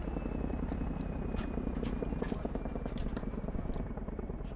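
Military helicopter coming in to land in the Arma 3 game, a steady loud rotor and engine drone running without a break through the whole stretch, with a faint voice now and then in the background.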